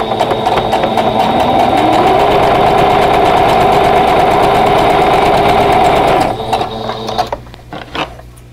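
A sewing machine runs loud and close, stitching a Dresden Plate quilt block seam in one continuous whirring run of about six seconds with a slight speed change, then stops, followed by a few soft handling clicks.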